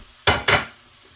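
Crispy bacon is stirred into colcannon in a cast iron pan, giving two quick scraping, sizzling strokes close up, each a short loud burst that fades into quiet.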